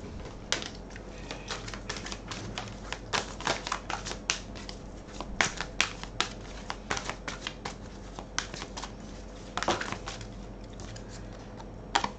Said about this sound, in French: Toutes les cartes tombent à terre.